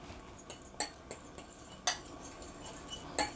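Garlic and jerk seasoning whisked together in a bowl, heard as quick, light metallic clinks and taps that come in an irregular rhythm, close and fairly quiet.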